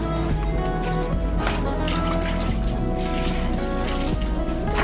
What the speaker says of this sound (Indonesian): setelah kita lakukan penanaman, kita akan lakukan penyiraman ya. Kita siram secukupnya saja.